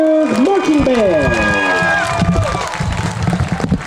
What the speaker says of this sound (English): one more round of applause for your Elberta Band of Warriors Marching Band